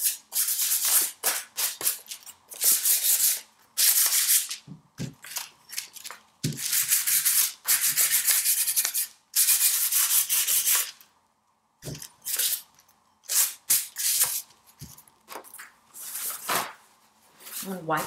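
A glass liquor bottle is sanded by hand with super fine sandpaper in repeated bursts of close, gritty rubbing with short pauses, while a person talks at times.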